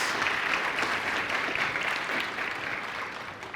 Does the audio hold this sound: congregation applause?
yes